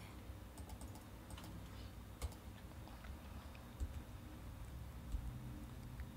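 Fast, steady typing on a computer keyboard, a run of light clicks and taps with a few sharper keystrokes, heard close against a low room hum with no talking.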